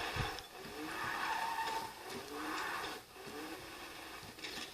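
Lamborghini tires squeal and skid in a video game as the car is parked, a few rising screeches over a steady engine-like drone, fairly close, no voices.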